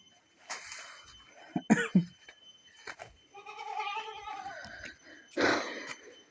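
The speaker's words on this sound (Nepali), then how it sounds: "यहाँ बाख्रा छ भित्र" Goats bleating in a hillside village near a forest, a wavering, strained cry rising in the middle, with coughs, scuffing and other scattered noises around it.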